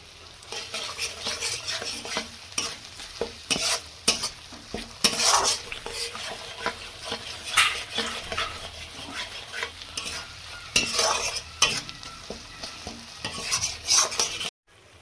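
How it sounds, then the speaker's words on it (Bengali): Spice masala for a tangra fish curry sizzles in hot oil while a utensil stirs and scrapes the pan, producing steady frying with repeated sharp clinks and scrapes close by and no speech. "মশলাটা ফের ভালো করে কষিয়ে নেব।"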